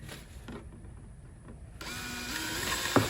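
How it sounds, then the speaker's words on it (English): A power drill with a 1/8-inch bit whirs in steady bursts, rising in pitch and loudness as it bores through a capped plastic bucket, close by with no talking. "I like to leave the cap on when I'm drilling."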